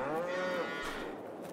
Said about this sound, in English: We have a cow barn where somebody is trying to free the cows.